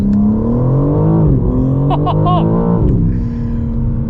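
A 2024 BMW M4 Competition engine revving in its most aggressive setting, a loud close growl that dips and rises with brief crackling bursts in the middle.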